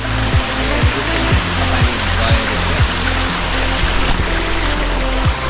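A waterfall in South Korea roars as a loud, steady rush of falling water, broad and constant, with faint rhythmic thuds underneath.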